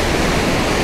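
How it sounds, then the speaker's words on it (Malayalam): Sulthana waterfall in Kerala pours in a steady, close, broadband rush of falling water that fills the moment without a break. "ഇതാണ് വെള്ളച്ചാട്ടം നല്ല അടിപൊളിയായിട്ട് ഒഴുകുന്നു"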